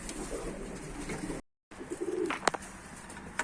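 Bango and dönek pigeons coo softly in a loft amid scattered flapping and chirps, with a brief dead gap midway.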